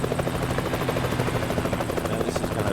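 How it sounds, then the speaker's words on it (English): Helicopter flying overhead in the Middle Eastern Truck Simulator game, a steady, loud rotor drone that holds constant throughout without breaks. "there is a helicopter up there"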